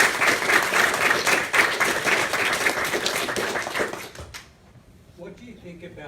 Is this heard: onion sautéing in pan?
no